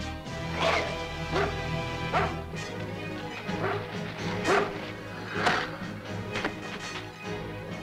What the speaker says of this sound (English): Let go, you dumb dog!